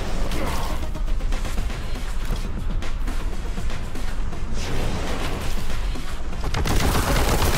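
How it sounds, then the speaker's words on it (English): Dense enemy gunfire fills a Warhammer 40k Boltgun firefight, with loud, continuous rapid shots, crashes and impacts overlapping throughout and no pause. "This thing's shooting me?"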